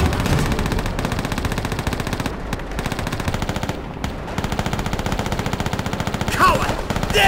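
A machine gun battle in Call of Duty: World at War near a German command post: sustained rapid automatic fire close by, with brief gaps and a burst of other battle noise near the end.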